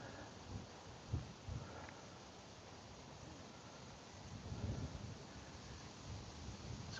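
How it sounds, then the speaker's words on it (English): Steady wind blowing outdoors in a Scottish wildlife garden on a warm, damp day, a constant broad rush with a few gustier swells and faint rustling, no talking. "It's quite windy today, but it is pretty warm still."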